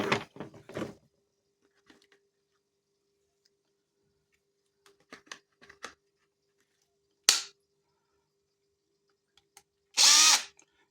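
A TexAC TA-CD30 cordless screwdriver is switched to its second speed. There are small clicks and taps from handling it, then a sharp brief whir and a short loud motor burst near the end, close by in a quiet room.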